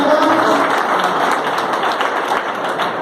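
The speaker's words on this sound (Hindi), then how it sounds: "जोरदार तालियों" An audience at a business meeting in Dausa claps loudly, a thick, continuous patter of many hands close by with no voices over it.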